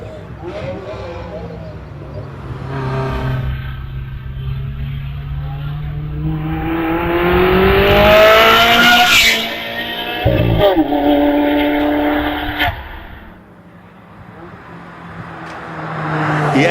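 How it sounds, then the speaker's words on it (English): A Ferrari 360 race car accelerates uphill at a Harewood hillclimb, out of Orchard toward Farmhouse Bend; the engine note climbs steadily and loudly through the gears, then fades into the distance, with a commentator talking over it. "Martin Jones in the 360 out of Orchard, heading up towards Farmhouse Bend."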